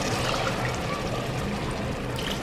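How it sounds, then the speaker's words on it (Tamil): Water is poured into a pot of country chicken biryani, a continuous close splashing gush lasting the whole moment, with no voices. "நல்லா வெந்ததுக்கப்புறம் அது கூட தேவையான அளவு தண்ணி சேர்த்துக்கோங்க"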